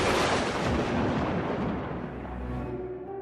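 A sharp thunder crack used as a sound effect in a Hindi horror audiobook, a loud rumbling burst that fills the whole moment and slowly rolls away, with no voice over it.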